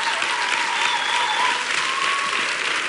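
An audience at a Bulgarian Idol singing-competition show applauds a performer, giving a sustained, even roar of clapping with faint crowd noise and no pause.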